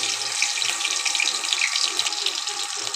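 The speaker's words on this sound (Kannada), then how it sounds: "ಮೆಣಸಿನ್ಕಾಯಿ ಹಾಕ್ತಾಯಿದ್ದೀನಿ." Green chillies drop into hot oil on the stove for a beetroot palya and sizzle steadily, a dense, close hiss with crackling that carries on unbroken for three seconds.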